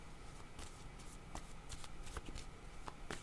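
Tarot cards are riffled and shuffled for a reading, a quiet run of papery flutters and soft slaps repeating over a few seconds.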